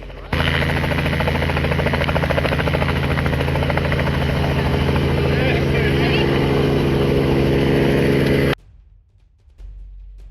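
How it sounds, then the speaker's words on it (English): A rescue helicopter flies over a record flood with a loud, steady rotor chop that holds for several seconds before cutting off abruptly. "record flood levels forced rescue teams to act by helicopter"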